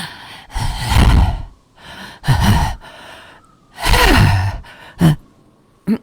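A person imitates the heavy breathing of a silent late-night prank phone caller with loud, close, rasping breaths that come in long drawn pulses separated by pauses, ending with a few short sharp gasps.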